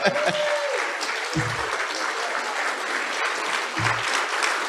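An audience at a tribute gala applauds the foundation's board members, strong, sustained clapping that fills the room while a voice speaks briefly underneath.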